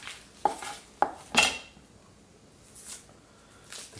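A knife trimming an onion on a cutting board for turkey stock, two sharp taps followed by a scraping slice, then quieter scattered cuts, close and alone.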